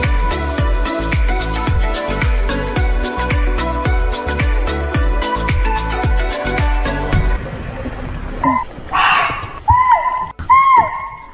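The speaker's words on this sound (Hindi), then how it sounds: "बार्किंग डियर और मंकी की कॉल है" Alarm calls from barking deer and monkeys ring out in the Jim Corbett jungle in the Brijrani Zone. Rhythmic background sound fills the first part, then several sharp, tonal calls cry out loudly after it fades.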